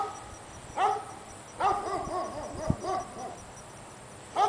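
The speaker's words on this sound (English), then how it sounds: "Woof, woof. That's a puppy." Puppy barking indoors at home, a series of short high-pitched yaps spaced irregularly, moderately close, with quiet pauses between bursts.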